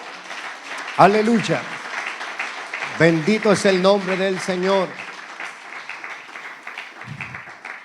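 A church congregation applauds for Christ during a sermon, a steady background wash of clapping that runs underneath a preacher's loud, emotional spoken exclamations and continues after the voice drops away.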